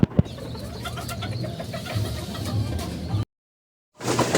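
Many fancy chickens, including Japanese bantams, cluck and coo together at a poultry farm in a steady, close chorus, which cuts out to silence briefly before resuming.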